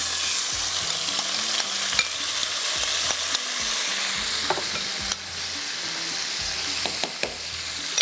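Masala-coated chicken with onions is stirred around a hot pan, producing a steady frying sizzle punctuated by repeated scraping and clanking strokes of the spoon, close and clear with no talk.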